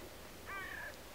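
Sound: crow cawing

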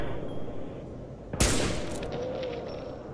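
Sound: hunting rifle gunfire in Fallout 4 Far Harbor video game

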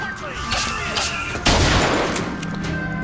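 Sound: gunfire in the video game Bioshock Infinite

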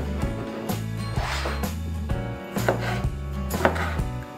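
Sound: cutting fruit into three pieces with a knife

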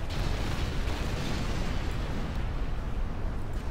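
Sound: explosion in the video game Rise of the Reds

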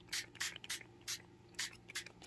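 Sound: spraying spray stain onto paper

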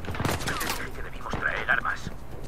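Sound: gunfire in the video game Uncharted 4

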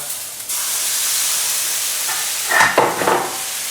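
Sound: stirring food frying in a pan

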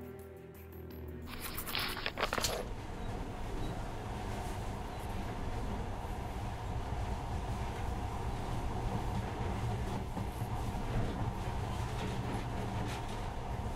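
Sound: monorail train running, video game Metro Last Light Redux

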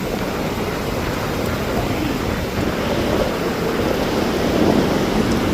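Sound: large sea waves at Aare beach, Ratnagiri

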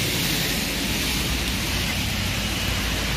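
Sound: rain falling outdoors

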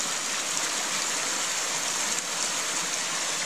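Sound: river water flowing near a beaver dam

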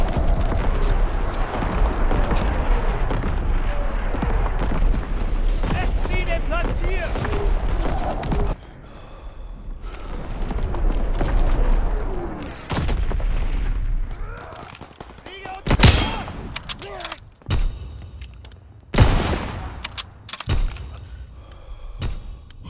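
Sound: artillery strike barrage in Call of Duty WWII video game

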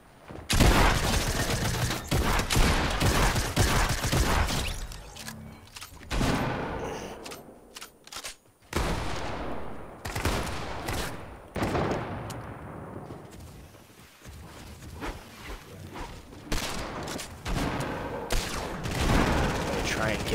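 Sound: gunfire in a video game

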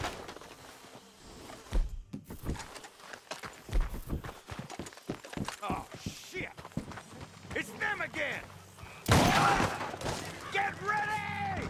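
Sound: horses' hooves clip-clopping in the video game Red Dead Redemption 2

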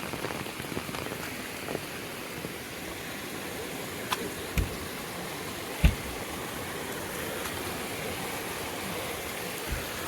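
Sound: rainwater flowing down from above

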